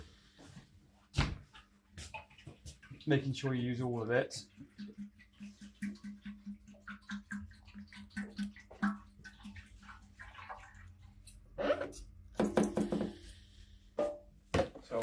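POR-15 sealer being poured into a motorcycle fuel tank, a brief liquid glug and splash heard close up amid clunks and handling noises, with someone talking over it.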